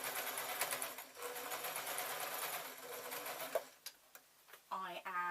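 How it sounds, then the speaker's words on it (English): Domestic sewing machine stitching fluffy fur fabric for a small plush hedgehog, running in steady rapid bursts of mechanical clatter for most of the clip, then stopping briefly before a short final run as a voice speaks. "I am sewing really"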